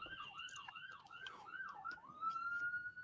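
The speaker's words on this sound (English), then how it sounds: "The ambulance." A distant ambulance siren wails in repeated rising and falling sweeps, then settles into a long, steady high tone, faint and far off in a quiet setting.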